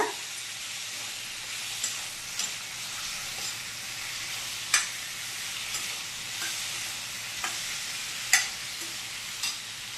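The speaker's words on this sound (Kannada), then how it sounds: "ಎಣ್ಣೆಯಲ್ಲಿ ಫ್ರೈ ಮಾಡ್ಕೊಳ್ಳೋದ್ರಿಂದ ಟೇಸ್ಟ್ ಚೆನ್ನಾಗಿರ್ತದೆ ಮತ್ತು ಬೇಗ ಬೇಯ್ತದೆ ಕೂಡ" Potatoes and ash gourd frying in hot oil for a curry give a steady close sizzle, broken by a few sharp spits and pops and the occasional stir.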